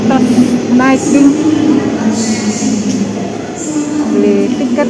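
A KRL commuter train rumbles and hums through Sudirman station in Jakarta, with faint metallic squeaks over a continuous rolling drone. Voices murmur nearby amid the station bustle.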